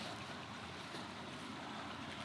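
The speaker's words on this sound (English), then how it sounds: "Have the water in the background." Water heard outdoors in the background as a faint, steady wash of waves with wind noise buffeting the microphone, no voices.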